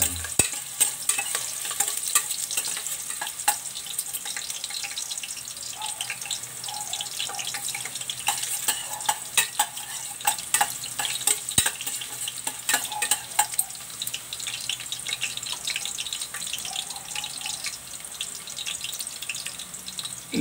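Ginger frying in a pan for adobong pata, with a constant close sizzle broken by scraping stir strokes and occasional splashy, watery crackles.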